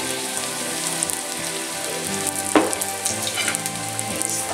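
Chilaquilas frying in hot oil, a steady dense sizzle and crackle close up with one sharper pop midway, no talking.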